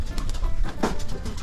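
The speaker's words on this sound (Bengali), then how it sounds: "কবুতর।" A pigeon coos briefly at close range on a rural river char island village in Kushtia, amid dense low rumbling background noise with no one talking.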